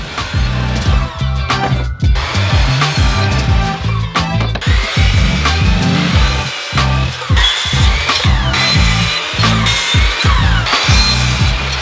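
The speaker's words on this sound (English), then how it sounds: "With my stop set up on my miter saw, I started making my way through the stack of shiplap boards as quickly as I could." A miter saw cuts through a stack of shiplap boards in rapid repeated bursts, loud and close, each cut a rising whine and rasp through wood with short clunks between.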